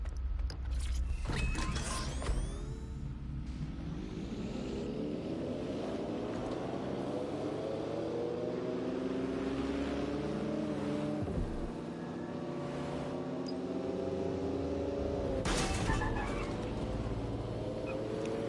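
A car engine in the Watch Dogs Legion video game runs steadily throughout, its pitch climbing and settling as the vehicle accelerates and shifts, with brief mechanical clunks near the start and middle and no talk over it.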